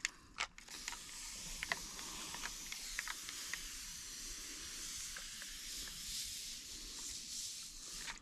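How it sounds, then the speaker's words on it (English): Spray bottle spritzing beer onto honey-coated pork spare ribs, a series of short sharp spritzes at irregular intervals over a faint background hiss, quiet and close, with no talking. "And then we're going to spritz this with our beer."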